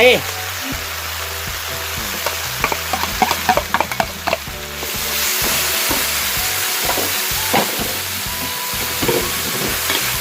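Thai seafood basil stir-fry with rice sizzles and fries in a pan, with repeated scraping and clanking of a spatula as it is tossed and mixed, steady and close throughout.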